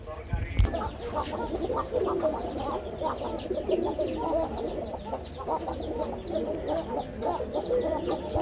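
Pairs of pigeons kept for sale at a bird market call repeatedly, with overlapping cooing and throaty bursts close by and people's voices in the background.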